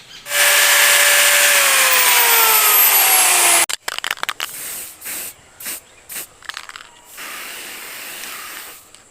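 A power tool cuts the edges of a metal mesh artwork, first as one long, loud, continuous whining grind, then as a series of short, choppy bursts separated by brief pauses.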